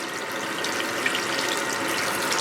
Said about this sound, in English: Now before I stop totally with rinsing out, I take off the carton wick.